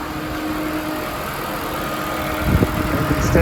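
A 2009 Ford Fiesta Titanium, its AC switched off, idles steadily at close range with an even low hum and faint fan noise, rising slightly in level with some knocking near the end.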